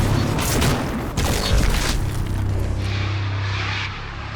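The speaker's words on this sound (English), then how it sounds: "We've been blowing stuff up." Explosions on the Halo series film set boom in heavy, rumbling bursts, one after another, close and loud, with a low drone lingering as they fade.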